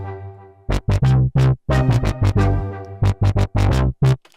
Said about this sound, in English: And then I layered another sound, just higher in pitch. And I used the Caribbean strings,